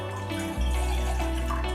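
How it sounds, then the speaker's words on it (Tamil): A cup of water poured into a pot on a stove for gulab jamun sugar syrup: a close, steady splashing stream with a low, hollow resonance and no talking. "ஸ்டவ்வில் ஒரு பாத்திரம் வச்சுட்டு 1 கப் தண்ணி ஆட் பண்ணிடலாம்."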